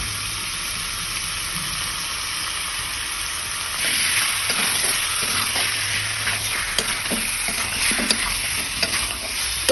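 Chicken sizzles and fries in a pan while being stirred with a ginger, garlic and green chili paste, the hiss steady and loud, growing busier with scraping stirs and spatters in the latter half.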